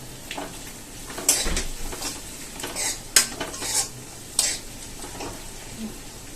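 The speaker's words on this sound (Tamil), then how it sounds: "தக்காளி நல்லா வதங்கட்டும்" A tomato sautéing with onions in a pan for chicken sukka, a soft sizzle under several clanking stirs of a metal spoon against the pan, close and without talk.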